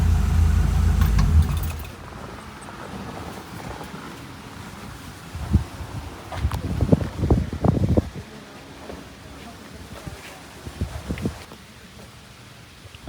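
A classic two-door 98 car sits idling after running for a while without overheating. A low engine rumble is strongest at first, then fades under wind, jangling keys and handling noises.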